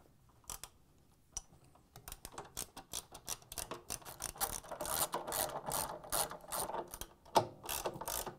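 A ratchet drives three 13mm bolts into the top front counterweight of a Whirlpool/KitchenAid/Maytag washer outer tub, sounding as rapid close clicking runs that speed up and grow louder, with one sharp metallic knock near the end.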